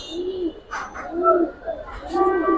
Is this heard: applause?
no